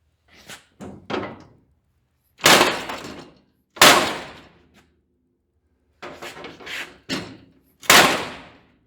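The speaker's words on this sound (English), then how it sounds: "When I get a big hammer, I bet it'll move then." A big hammer striking the front clip of a 1940 Chevy coupe to bend it into place: about ten sharp, ringing metal blows in irregular bursts, close by, with short silent pauses between groups.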